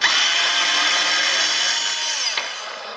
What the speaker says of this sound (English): what I'm going to do is unscrew them with the screwdriver. This electric one takes less time.